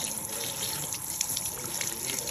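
A kitchen tap runs steadily while a white bass fillet is rinsed under it, a continuous close splashing hiss of water with small irregular spatters, no talking.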